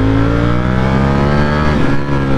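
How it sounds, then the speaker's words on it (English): Loud, close engine roar of a 2022 Ducati Streetfighter V4S V4 sport motorcycle revving steadily, with a slight dip and rise in pitch partway through. "the engine sounds amazing"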